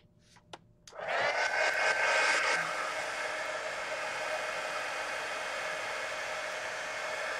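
A hair dryer blasting air over a fresh sketch switches on after a second of quiet and then roars steadily and close for the rest of the time, with no voices over it.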